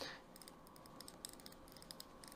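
Hairdressing scissors with the bolt being assembled give a run of small, crisp, faint clicks at close range, with no voices.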